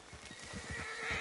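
A horse in Red Dead Redemption II whinnies over rhythmic hoofbeats, a brief, close neigh layered on quick clip-clopping.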